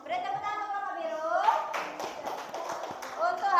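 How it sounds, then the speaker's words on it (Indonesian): A primary school class claps for the blue group after their project presentation. A voice speaks first, then a short burst of scattered, uneven clapping from children follows, with talk continuing over it. "Beri tepuk tangan untuk kelompok biru."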